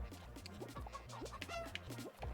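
A chicken-call taunt in the Fall Guys video game gives a string of clucking fowl sounds in rapid, uneven bursts over a steady game background, fairly faint.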